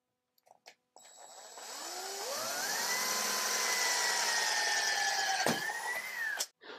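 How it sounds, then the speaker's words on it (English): Power drill driving a screw into a wooden plug to pop out an outdoor furniture cap, a whining motor rising in pitch and holding steady for several seconds before a sharp snap and the drill winding down, close and alone. "The easiest way to do that is with a drill and a screw."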